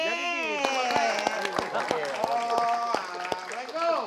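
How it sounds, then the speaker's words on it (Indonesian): Applause rises from a talk-show studio audience for a guest, steady clapping running throughout, mixed with overlapping voices and laughter in the room. "tepuk tangan buat Pak Koyo nih"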